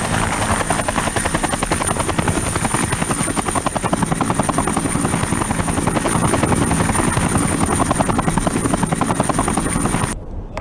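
Helicopter rotor chopping steadily and loudly throughout, part of a clinical virtual reality simulation of a combat scene, continuous thumping with a high whine above, cutting off abruptly near the end.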